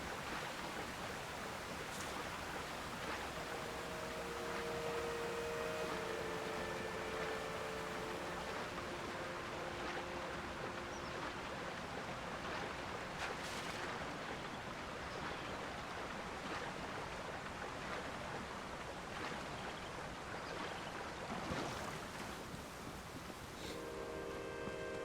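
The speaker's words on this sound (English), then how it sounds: "there is no secret behind this waterfall" Steady broadband rush of a waterfall in Zelda: Tears of the Kingdom, continuous and fairly quiet throughout, with faint tonal game music notes drifting over it and no talk.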